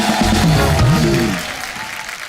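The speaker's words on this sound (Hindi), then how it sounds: "जुबिन के लिए जोरदार तालियां हो जाए एक बार।" A studio audience at a television comedy show applauds loudly and steadily, with a voice briefly heard over the clapping before it fades down.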